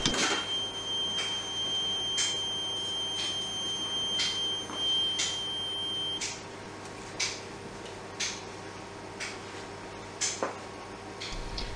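A sharp electronic alarm tone from a reconditioned smoke detector head under test repeats in short regular pulses over a steady high whine, indoors and fairly close, with no talking.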